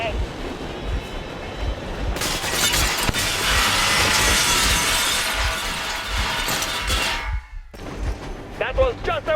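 Sustained heavy gunfire from an armored vehicle in Metro Exodus, a dense roaring burst lasting several seconds over a low rhythmic rumble, then cutting off before a voice speaks.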